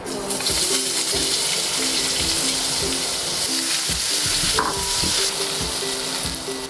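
Garlic and bell peppers fry in hot duck fat mixed with vegetable oil, a loud, continuous close-up sizzle with crackles and stirring clatter, speech barely present.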